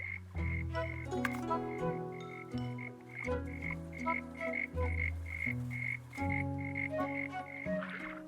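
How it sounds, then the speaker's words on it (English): Frogs croak in the cozy building game Tiny Glade, a steady loop of close, bright croaks over a soft melodic music bed, with no talking. "Oh, I love the game sound so much. The frogs."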